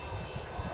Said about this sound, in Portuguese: É um avião, é verdade.